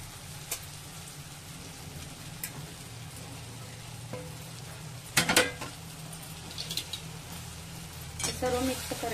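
Chapati pieces stirred in a pan with ghee for phodnichi poli, soft scraping and sizzling with a few sharp clinks of a spatula against the pan.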